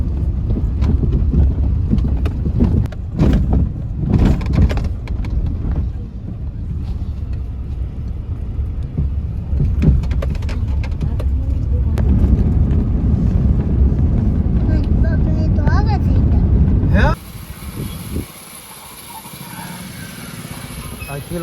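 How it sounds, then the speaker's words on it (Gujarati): Strong wind gusting beside a new roadside where people stand around a four-wheeler, heavy rumbling buffeting on the microphone that drops abruptly near the end, with voices talking intermittently. "પવન બહુ આવે, પવન બહુ આવે."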